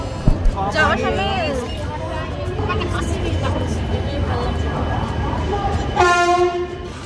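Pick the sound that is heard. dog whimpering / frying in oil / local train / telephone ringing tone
local train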